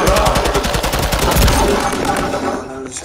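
Gunfire in Call of Duty, loud rapid machine-gun bursts crackling continuously close by before easing off at the end.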